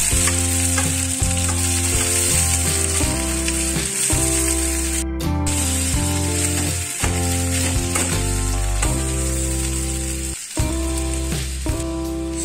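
Mashed boiled potato frying in hot spiced oil tempering for a kids' vegetable tiffin, with a loud, continuous sizzle and intermittent stirring scrapes, no voices present.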